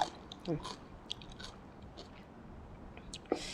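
Someone eating fried meatballs with dipping sauce, close and fairly quiet bites and chewing with a few moist smacks and crunches.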